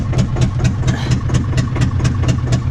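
A cold digger engine chugs in a steady, rhythmic diesel beat, loud and close, with fast regular pulses running throughout.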